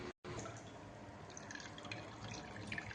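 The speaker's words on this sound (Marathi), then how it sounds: "आता हा डबा विसळून घेऊ आपण आणि ह्याच चाळणीने तो पाणी जे आहे ते गाळून घेऊया" Water from a rinsed container is strained through a sieve into a bowl while making wheat chik, a faint, continuous trickling and dripping that runs on steadily with a short gap near the start.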